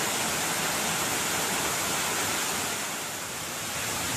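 Waterfall at Mt. Maynuba pouring steadily with a dense, continuous roar of rushing water, close and loud throughout with no talking.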